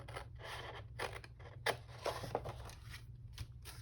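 Scissors cut paper for a fall leaves folio, giving close, quiet snips and rustling scrapes in a short, irregular run over a low background hum.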